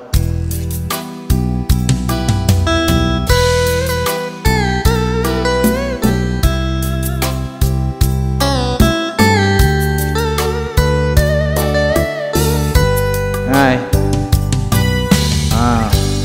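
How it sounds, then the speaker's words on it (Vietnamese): A Kurtzman SV800 keyboard organ plays its vintage guitar voice over a rumba rhythm accompaniment, with steady bass and percussion under bright plucked melody lines, loud and continuous throughout with no talking. "Đó là tiếng guitar cổ nha"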